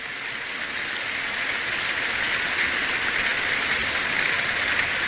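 A church congregation cheers and applauds for the Lord in a steady, dense roar of clapping that holds at an even loudness throughout, with no single voice standing out.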